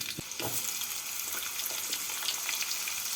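Potatoes dropped into hot oil tempered with panch phoron for a mixed winter vegetable curry, a sharp splash followed by a steady close, hissing sizzle.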